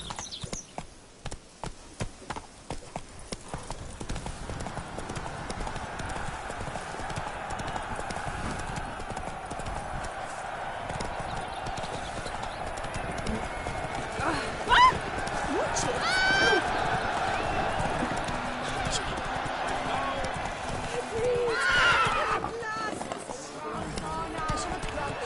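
Roach, a horse in The Witcher 3: Blood and Wine, gallops on and on in a steady rapid clip-clop of hooves under ambient wind and game sound, with a voice now and then.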